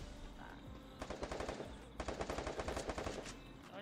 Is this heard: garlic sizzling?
no